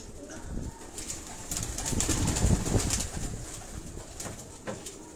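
Breeder pigeons kept in numbered rooftop cages in Karachi's Defence area coo steadily amid broadband rustling and a few wing flutters, moderately loud and close.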